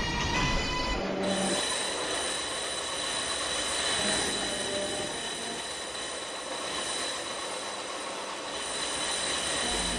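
A New York 4 express subway train bound for Bowling Green runs with a steady, loud rumble and faint wheel squeal throughout, no voices over it.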